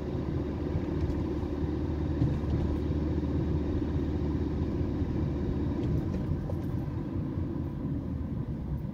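A tractor on a rural road near cycle paths rumbles past with a steady, loud low-pitched engine drone that holds throughout, no voices over it.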